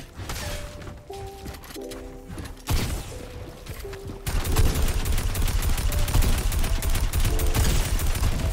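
Rapid bursts of gunfire from the video game Fortnite, sharp repeated shots and clattering mechanisms that grow louder and denser in the second half, with a faint voice in the background.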